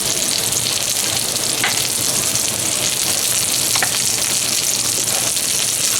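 Breaded lamb medallions fry in extra virgin olive oil with a steady, close crackling sizzle that holds even throughout, with faint stirring clicks and no talk.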